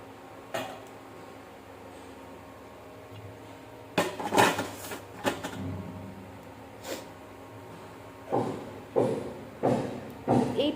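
Plates and dishes clatter in a home kitchen with several separate clinks and knocks, some scattered, some in a quick cluster near the end, moderately close with no talking.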